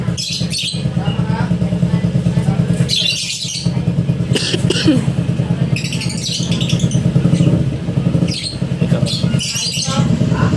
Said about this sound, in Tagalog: may nagingay pa ng motor